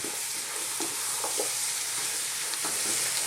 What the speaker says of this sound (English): we're on this kind of highish heat. Let's just cook this for about another 3 minutes. Give it a stir every now and then.